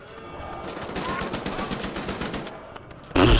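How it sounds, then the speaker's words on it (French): Rapid machine gun fire from an STG-44-style weapon in Wolfenstein: The New Order, a steady stream of close shots lasting a few seconds, ending in a sudden loud blast. "Notamment cette mitrailleuse, oh la vache, réminiscente de la STG-44"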